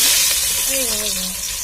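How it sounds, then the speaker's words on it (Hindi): Two large, finely chopped onions fry in a pot for pulao, giving a steady, close hiss of sizzling oil while a voice talks over it. "दो बड़ी प्याज़ों को बारीक कर दिया है और इसे शामिल कर दिया है। अब इसे प्यारा सा गोल्डन ब्राउन कलर देंगे।"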